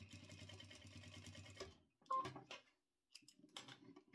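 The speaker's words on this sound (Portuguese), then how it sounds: "E aqui eu vou passar uma costurinha com retrocesso." Sewing machine stitching a fabric triple pouch, a steady close mechanical whir that stops briefly, then short bursts of back-and-forth stitching for a backstitch.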